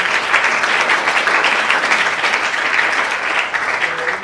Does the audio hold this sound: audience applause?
yes